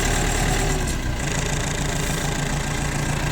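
A Mitsubishi MT24 4WD tractor's diesel engine idles steadily up close, a loud, even low rumble with a constant knocking throb and no voices.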